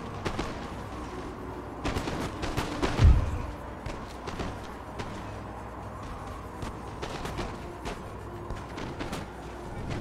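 Musket volleys from infantry units crackle across a battle against the Austrians in Empire: Total War, with scattered distant shots and rolling fire and one heavier thump standing out against a steady battlefield din.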